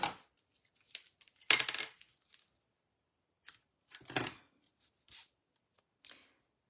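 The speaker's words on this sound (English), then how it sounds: "I'm going to use the tear and tape so I can get that over the top of the ribbon" Strips of tear and tape adhesive are ripped by hand for a greeting card with ribbon, giving a few short, sharp, close tearing rips separated by quiet pauses.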